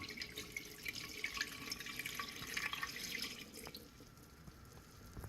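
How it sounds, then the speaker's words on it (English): Kombucha tea poured into a gallon jar over the SCOBY, a steady trickling splash of liquid that continues for several seconds, then tapers off near the end, with no talking. "You can pour it right over top of the SCOBY."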